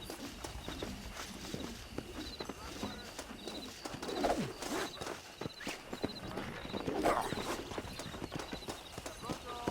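Steady horse hoofbeats clip-clop in an even rhythm throughout in Red Dead, with birds cooing and chirping in the background and voices talking intermittently.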